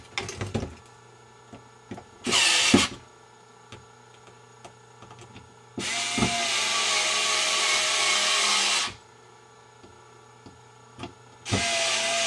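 A power screwdriver whirs in three bursts, one short and two longer, while it drives down the head bolts on an airsoft RPG. Small clicks and handling sounds fall between the bursts.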